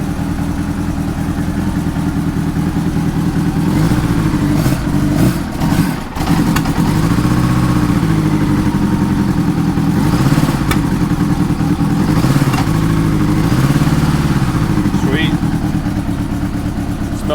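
An old Honda Goldwing motorcycle engine runs loudly throughout after a carburetor rebuild, its revs rising and falling with a rough, clattering tone, with voices briefly audible over it.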